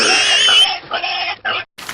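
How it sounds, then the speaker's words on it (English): A herd of piglets oinking and grunting close together, a loud continuous squealing chorus of overlapping snorts and squeals that breaks off in short bursts near the end. "a herd of piglets bursts on stage"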